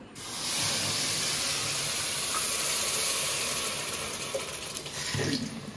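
Water poured onto sugar in a pan to make syrup, a steady loud rushing hiss that runs almost the whole time and eases slightly near the end.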